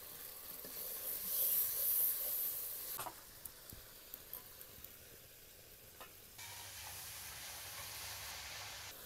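Cinnamon and other whole spices sizzle in hot oil for tempering, in a rustic village kitchen, with no one speaking. The sizzle is a steady hiss that is louder at first, drops back, then rises again near the end.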